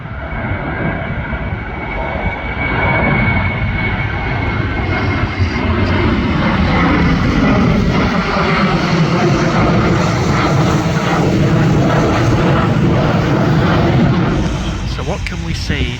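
A loud, steady roar of jet aircraft at Schiphol Airport, with Emirates and Singapore 747 cargo planes nearby, holding as a continuous broadband rumble for the whole stretch, with no talk.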